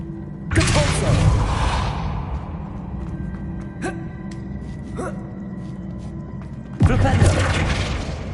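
Depulso spell cast in Hogwarts Legacy, a burst of magic whooshing and booming at the start and again near the end, with smaller impacts between and continuous game ambience underneath.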